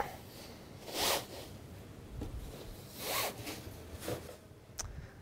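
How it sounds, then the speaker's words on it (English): A zipper runs along the fabric carrying case of a portable tension fabric display, with two long zipping strokes and a shorter quick pull in between, close and clear over faint rustling. "Align the zipper to the center of the back."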